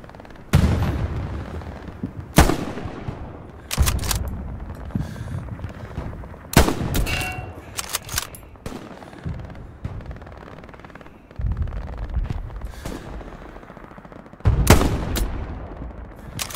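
Gunfire in Hell Let Loose, set in Stalingrad: sharp rifle and gun cracks ring out irregularly, some close and loud, others distant, with echoing tails and a low battlefield rumble between shots.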